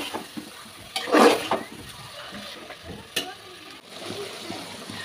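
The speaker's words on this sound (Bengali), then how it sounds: "মাংসটা মশলার সঙ্গে ভালো করে মিশিয়ে নেব এবং কষতে থাকবো" Meat is sautéed with spices in a pan: soft sizzling runs under scraping stirs, with one louder burst of stirring early on and quieter clinks after.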